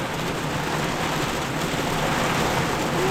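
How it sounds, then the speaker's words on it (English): Hail patters densely and loudly on a 28-foot sailboat during a storm, a steady close rushing clatter with no pauses. "It's actually hailing."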